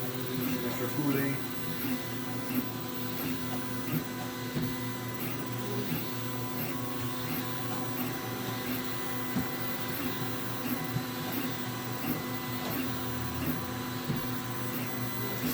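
A VzBoT 3D printer runs at 400 mm/s with an experimental hotend, giving a steady mechanical hum and whine with faint periodic ticks throughout, no talk.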